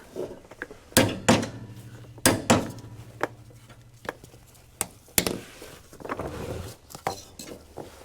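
A mower blade bolt is torqued down on a Husqvarna garden tractor deck, with the blade wedged by a 2x4, heard as scattered sharp metallic clanks and knocks of tools on steel, close by with quiet gaps between.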